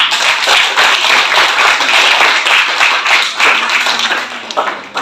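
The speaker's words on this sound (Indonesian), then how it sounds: "Coba kasih tepuk tangan sekali lagi." A classroom full of people clapping together, dense and sustained applause that stays loud before thinning out at the end.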